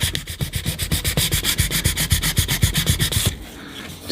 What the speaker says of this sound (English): So I've got some 600 grit sandpaper, and I'm just going to gently rub across